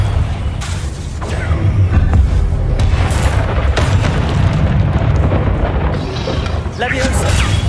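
Magical blast from the Confringo spell in the video game Hogwarts Legacy, a heavy booming roar with rumbling low end that fills the scene continuously, layered with other combat effects and voices.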